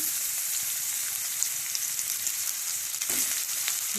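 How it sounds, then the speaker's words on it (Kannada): Small chopped ridge gourd pieces frying in two spoons of hot oil give a steady, close sizzling hiss that runs unbroken, with faint stirring touches and no voices. "ಎಣ್ಣೆ ಕಾಯಕ್ಕೆ ಎರಡು ಚಮಚ ಈಗ ನಾನು ಹೀರಿಕಾಯಿ ಸಣ್ಣ ಪೀಸ್ ಮಾಡ್ಕೊಂಡಿದ್ದೆಲ್ಲ ಅವನ್ನ ಅದಕ್ಕೆ ಹಾಕ್ತೇನೆ"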